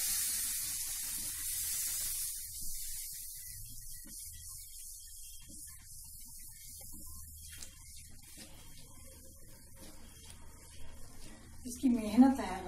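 Milk poured into moong dal halwa frying in desi ghee, giving a loud hiss and spray at first, then a softer, steady sizzle with a voice speaking over it.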